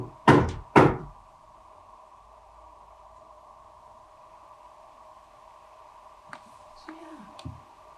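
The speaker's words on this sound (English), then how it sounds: "I just heard knocks." Two sharp knocks close together near the start during a haunting investigation, then a steady hum with a few faint taps and a brief murmur toward the end.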